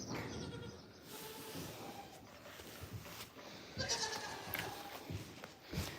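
A goat bleats a few times amid faint farmyard background noise, moderately close and not very loud.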